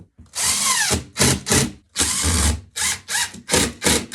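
Drill driving drywall screws through a metal corner bead: a series of short, loud whirring bursts, each a few tenths of a second, in a quick irregular rhythm, heard up close with no talking.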